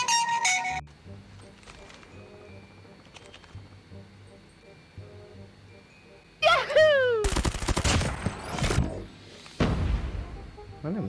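Video game gunfire from a weapon called Messi: a few scattered shots early on, then loud rapid bursts and automatic fire near the end, over game music and effects.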